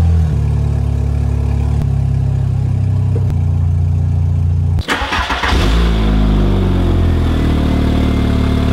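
A modified Volkswagen Jetta's low, steady engine hum is broken by a sharp cutoff. The engine then roars up loudly and settles into a rumbling rev. Nobody speaks.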